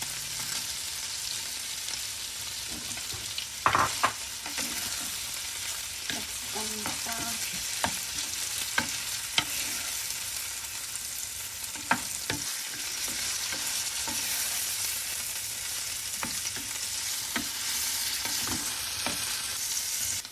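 Chopped capsicum sizzles steadily in a hot pan for spaghetti, with a constant frying hiss broken by scattered clinks and scrapes of a spatula stirring, no voices.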